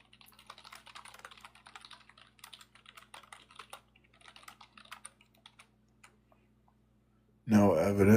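Someone types on a computer keyboard to use ChatGPT, producing rapid, irregular clusters of close, quiet key clicks that taper off, followed by a sudden loud burst of another sound at the end.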